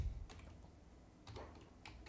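A few keystrokes tapped on a computer keyboard in a quiet room, faint and sparse, with three light clicks spread across a short moment.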